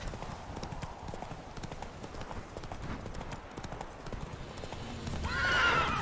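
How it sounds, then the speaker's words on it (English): Horses in The Witcher 3: Wild Hunt clop steadily at a gallop throughout, with a loud neigh breaking out near the end over a game soundscape. "More horses over here."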